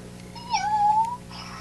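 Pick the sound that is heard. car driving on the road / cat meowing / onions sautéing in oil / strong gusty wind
cat meowing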